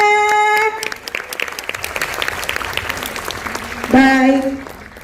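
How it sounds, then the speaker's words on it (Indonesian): Audience applause rolls through a hall on the closing night of the Jakarta World Cinema festival, a steady clatter of clapping beneath loud tonal bursts of music or cheering at the start and near the end. "Kita kasih tepuk tangan boleh?"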